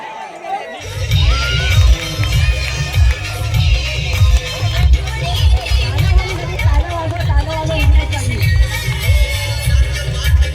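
A crowd at a local premier league cricket match in Vengaon cheers and shouts excitedly in a noisy, continuous din, with a booming loudspeaker and music pulsing underneath.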